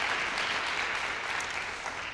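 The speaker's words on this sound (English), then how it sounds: "Let's give her a nice round of applause." An audience at a speaking event applauds steadily, and a full, even wash of clapping carries through the short stretch with no voices over it.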